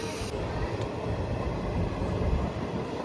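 A train moves along railway tracks near a station, a steady rumble and low roar heard from on board that holds for a few seconds, with no clear voices.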